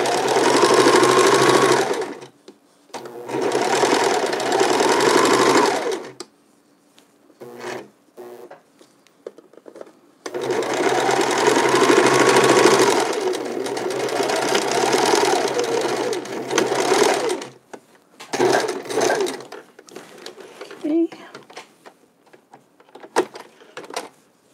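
Sewing machine stitching mittens from recycled wool sweaters, running in several long, steady bursts of rapid whirring with short pauses between them, close and clear, with no talking.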